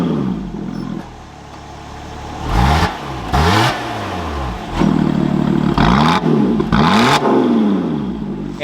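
Lotus Evora 400 supercharged engine barking through its single centre-exit exhaust, with several sharp throttle blips rising and dropping over a steady idle, loud and close.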